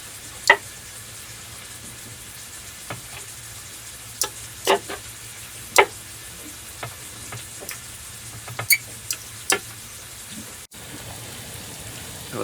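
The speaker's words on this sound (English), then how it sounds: "that's sizzling away nicely down there" Bacon and egg fried rice sizzles softly in a pan in a small boat's galley, a faint steady hiss broken by scattered sharp pops and crackles, with no talking.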